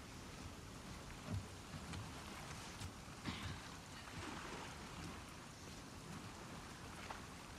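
Steady rainfall in the video game The Last of Us Part 2, a faint continuous hiss of rain with a few soft rumbles and splashes, even and unbroken throughout.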